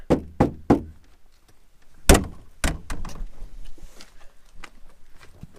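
Knuckles rap on a thin, bare Citroen 2CV door panel with no Dynamat insulation: three quick hollow knocks, a pause, then a louder strike followed by several more taps, close and resonant.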